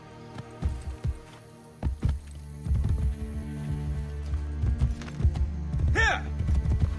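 A horse galloping in Assassin's Creed: Brotherhood, rhythmic thudding hoofbeats over game music and ambience, with brief voices and a whooshing effect near the end.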